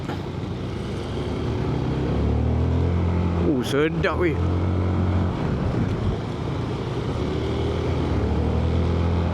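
A 150cc scooter with automatic transmission climbs a hill, its engine droning steadily with heavy wind noise buffeting the microphone throughout; the rider speaks briefly over it.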